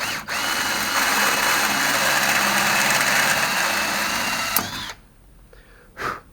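A Hougen Rotacut annular cutter drills a hole in metal, a loud, steady whirring grind for about four and a half seconds that ends abruptly, followed by quieter machine noise and a brief burst near the end.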